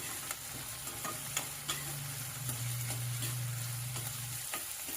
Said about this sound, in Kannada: ಆಲೂಗಡ್ಡೆ ಚೆನ್ನಾಗಿ ಫ್ರೈ ಆಗುತ್ತೆ